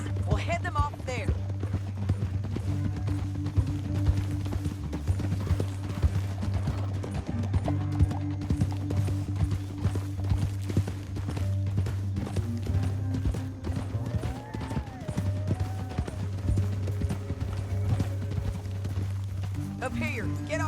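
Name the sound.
horses galloping, hooves clip-clopping, in video game Red Dead Redemption 2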